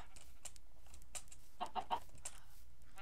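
A few soft, short clucks from chickens nearby, scattered over quiet outdoor background.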